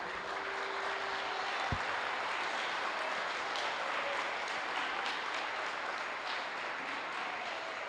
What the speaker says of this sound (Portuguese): dê uma salva de palmas ao Rei